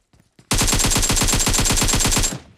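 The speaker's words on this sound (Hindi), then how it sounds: "मैं गन चला रहा हूँ" Automatic gunfire in the PUBG video game: after a faint click or two, a rapid, evenly spaced burst of about twenty loud shots runs for roughly two seconds, then cuts off with a brief ringing tail.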